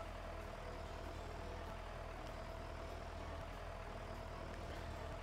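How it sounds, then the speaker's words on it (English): The tractor in the Stardew Valley farming game idles with a constant low, rough engine drone, steady and unbroken throughout, no voices. "Bro, this tractor is so obnoxious."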